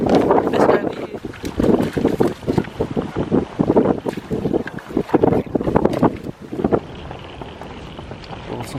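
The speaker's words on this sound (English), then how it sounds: "It's been so damn windy, but that's just how we like it." Strong gusty wind buffets the microphone on a duck hunting boat on the water at sunrise in Australia, a loud continuous roar with heavy low rumbling bursts throughout.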